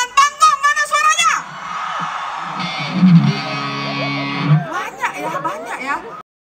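Concert crowd at a carnival stage show in Toraja, cheering and shouting loudly from the right side of the stage, a sustained mass roar in the middle of the clip, with a voice speaking over a PA before and after.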